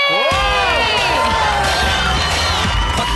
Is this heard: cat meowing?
no